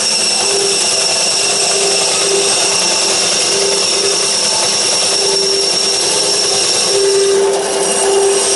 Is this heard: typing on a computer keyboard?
no